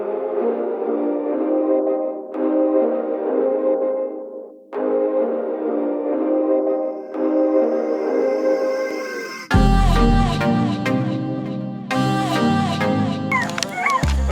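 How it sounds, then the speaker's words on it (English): Several dogs whimper, yip and bark under a shed, a loud, continuous close chorus of high whines broken by sharper barks, with no talking. "my dogs are screaming and barking underneath the shed"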